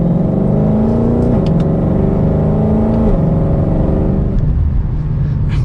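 A 2021 Ford Mustang Shelby GT500 pulls hard from first gear out of a turn, its loud engine climbing in pitch through the revs, easing briefly at a shift, then fading to a lower drone.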